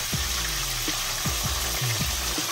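Hot oil crackles and sizzles steadily around tilapia in a frying pan, with several short clunks and scrapes as the fish is flipped, close and fairly loud with no talking.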